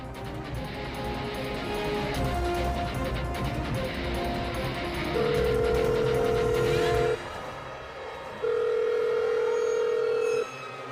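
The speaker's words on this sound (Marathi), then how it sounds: "मी परत एकदा फोन करून बघते, कदाचित उचलेल." A phone call goes unanswered indoors, with a faint murmur of room sound, then two long steady ringback tones separated by a pause.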